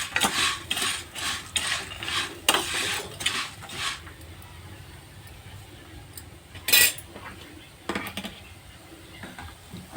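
Whole spices for garam masala being stirred and dry-roasted in a pan, a utensil scraping and clinking against the metal in short bursts, with quieter gaps between strokes and no talk.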